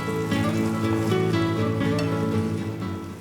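Spring onion whites hitting a hot pan with chili sauce, giving a steady, loud, close sizzle and frying hiss that holds evenly throughout, with a faint tonal hum beneath and no speech.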